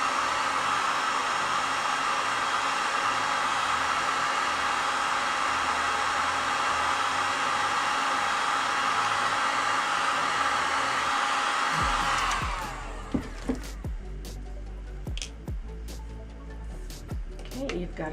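A heat tool blows a steady, loud hot-air rush onto a Tyvek strip wrapped around a chopstick for about twelve seconds, then switches off, followed by light clicks and handling sounds.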